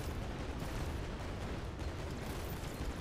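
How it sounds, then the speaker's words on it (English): A cluster bomb in the roguelike game Greedland goes off as a dense, continuous rumble of blasts. The explosions blur into one steady roar with no clear separate pops throughout. "Use a cluster bomb on pretty much nobody."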